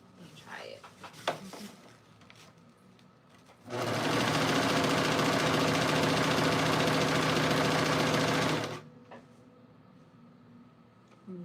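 A sewing machine runs in one continuous burst of about five seconds of fast, even stitching after a tension adjustment on its thread, a close mechanical whir between quieter handling sounds before and after.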